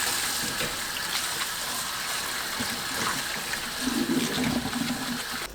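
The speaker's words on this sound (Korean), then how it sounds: "흐르는 물로 헹궈주세요." Running tap water streams steadily over cabbage leaves being rinsed at a kitchen sink, a continuous splashing wash that stays even throughout with a slight rise near the end.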